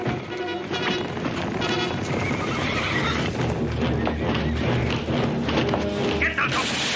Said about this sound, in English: Hey, Paul, the horses.